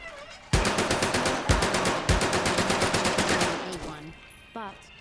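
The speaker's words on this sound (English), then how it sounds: "The MP40, a deadly German submachine gun." A German MP40 submachine gun fires in Medal of Honor: Above and Beyond, loud and close, in three long rapid bursts with brief gaps between them, then falls quiet apart from a short faint rattle near the end.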